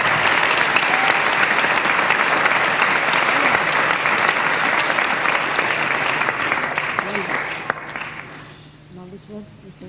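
Loud audience clapping goes on for several seconds, then thins out and fades away near the end, leaving a few scattered claps and faint voices.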